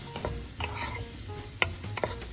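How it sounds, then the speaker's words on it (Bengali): Spices and frozen green beans fry in a pan that is giving off some water, with a soft sizzle under sharp spoon or spatula scrapes and clinks at irregular intervals, without any voices. "মশলাটাও এটার সাথে একসাথে ভাজা ভাজা হতে থাকবে"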